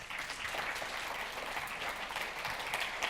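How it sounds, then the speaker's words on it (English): A conference audience gives a warm round of applause to welcome a speaker onstage, a dense, even patter of many hands sustained throughout at moderate volume. "So warm round of applause for Ed"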